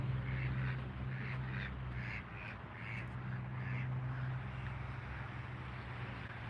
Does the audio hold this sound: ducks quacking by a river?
yes